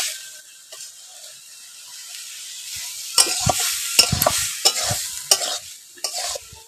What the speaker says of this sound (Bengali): দেখো এখন লোহাটা মাছের তরকারিটা হচ্ছে।